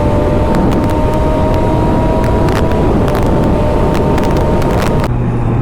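Triumph Daytona 675 motorcycle engine held at max throttle, a loud, steady, sustained roar with a constant drone that drops sharply near the end.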